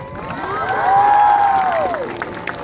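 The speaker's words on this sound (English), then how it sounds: "with a big, loud cheer, let's thank our teachers" Children give a big, loud cheer for their teachers at a school promotion ceremony, a sustained crowd roar of young voices that swells and then fades over a couple of seconds.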